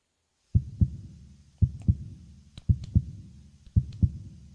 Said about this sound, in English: Do you hear the thing sounds like a heartbeat?